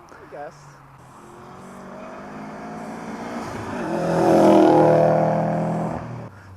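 A Subaru race car on a track swells from a distant engine drone into a loud, rising pass that peaks and fades, with voices talking over it.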